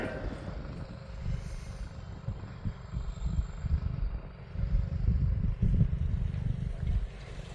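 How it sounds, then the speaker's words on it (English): A farm irrigation wheel line, its long pipe doubling as the axle, rolls forward across a field with a steady low rumble and rattling mechanical noise, swelling louder toward the end. "you can see that the whole wheel line just rolls forward"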